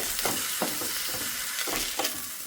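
Fresh moringa leaves sauté in a hot pan for a moringa leaf bonda, a steady low sizzle broken by several soft stirring scrapes, close and alone with no voices.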